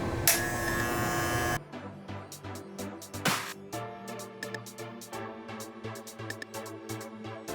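An electric trimmer buzzes steadily as it trims loose hair on a head, then cuts off and gives way to bursts of short snips and rustles close up.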